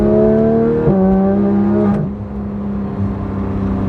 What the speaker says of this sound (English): When you've got that engine right there and it rips like that